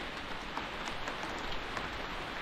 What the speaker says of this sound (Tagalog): Talagang sobrang ulan.